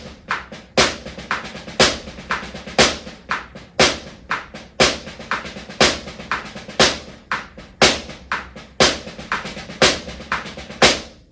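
Drum practice of the seven stroke roll rudiment at 120 bpm, with sharp, evenly spaced accents each followed by quick clusters of softer strokes, close and dry, repeating in a steady pulse with no talking.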